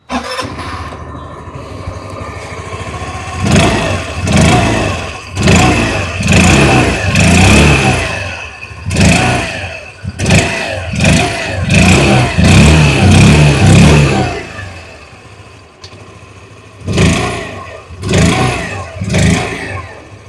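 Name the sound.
scooter engine exhaust revving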